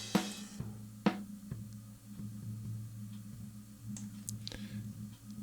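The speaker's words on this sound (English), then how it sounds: "It's just the drum resonating the whole time." A low, steady floor tom resonance hums continuously at a faint level, broken by a few soft clicks and knocks.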